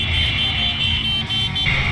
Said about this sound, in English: She's still honking at him.